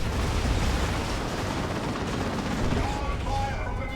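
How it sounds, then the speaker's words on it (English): Grenades and gunfire burst through a dense, continuous roar of battle as Space Marines fight in Warhammer 40,000: Dawn of War 2, loud and unbroken throughout. "And grenades going in too."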